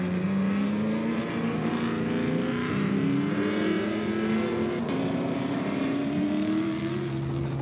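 Castrol Toyota rally cars in the Atlas Copco Gold 400 race past one after another, engines droning loudly and shifting pitch as they approach and go by, with a steady roar throughout.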